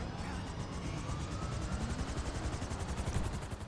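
A Frogger helicopter from the video game GTA 5 roars steadily with a dense, rapid rotor chop and broadband engine wash, loud and continuous with no talking.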